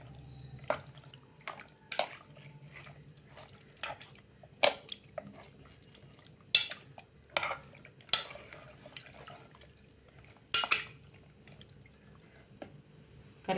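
A spoon knocks and scrapes against a pot while jeera rice mutton biryani is stirred with added water before pressure cooking, giving sparse, quiet clinks and wet stirring sounds at irregular intervals.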